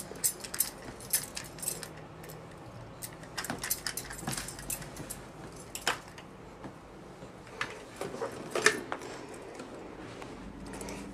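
Keys jangling in a home with a small child, heard as scattered metallic rattles and clinks over a quiet room background, some louder bursts near the end.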